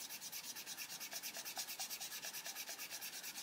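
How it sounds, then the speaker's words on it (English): Tombow Mono Eraser rubbing out a dark pencil patch on a colouring page, a quick steady back-and-forth scrubbing repeated about a dozen times, close and fairly quiet with no talking. "Now there we've got a really dark patch which I really dislike. Tombow Mono Eraser."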